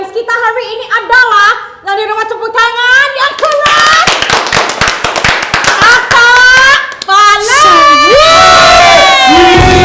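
Children in a Sunday school crowd cheer, shout and clap loudly for the game winners, a dense burst of excited young voices and applause that swells and carries on throughout.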